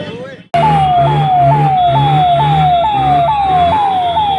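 A loud, close fire engine siren wailing in steady repeating upward sweeps after a brief moment of background noise, with a low engine rumble beneath, in traffic in Amritsar.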